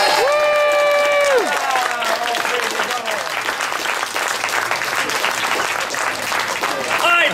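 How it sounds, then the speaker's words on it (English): Loud audience applause with some cheering fills a live King Arthur and the Holy Grail comedy stage show, steady clapping running the whole stretch while a speaking voice rises over it at the start. "let's have a huge round of applause for our real star"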